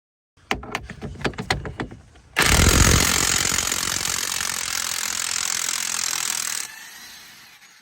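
An impact wrench works a 36mm wheel bearing bolt on a Dodge, opening with a quick series of sharp hammering bursts, then a loud continuous whir for about four seconds before cutting off.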